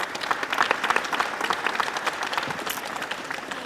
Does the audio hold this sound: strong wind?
no